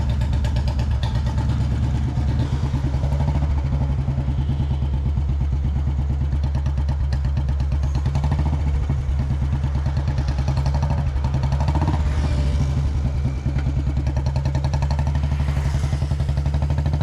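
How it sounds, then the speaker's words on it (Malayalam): A 1986 Royal Enfield Bullet 350 with the old CI engine idles steadily at close range, its loud, even thump and mechanical clatter continuing unbroken with no talk. "ഫസ്റ്റ് നമുക്ക് CI എഞ്ചിൻ വണ്ടി നോക്കാം കേട്ടോ"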